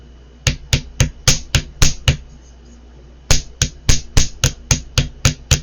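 Steady hammer blows in copper work, evenly spaced in two runs separated by a pause, each strike a sharp bright ting that rings briefly where the hammer misses the copper.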